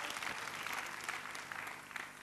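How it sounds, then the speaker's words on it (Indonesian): Applause from a church congregation during an Indonesian-language service, steady clapping filling the room for a couple of seconds at moderate, slightly distant level. "tepuk tangan buat Allah kita"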